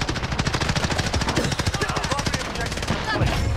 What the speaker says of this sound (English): Fucking shoot through the house